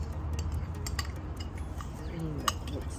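Broccoli slaw ingredients with dried cranberries and walnuts being tossed in a bowl, giving soft scattered clinks and scrapes of utensils against the dish over a low steady background.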